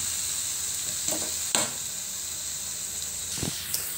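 Masala of ginger garlic paste, chopped green chillies, coriander powder, turmeric, red chilli powder, salt and cumin powder sizzles steadily in a pan while a spoon stirs it, with a few scraping strokes over the soft frying hiss.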